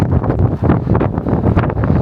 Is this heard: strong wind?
yes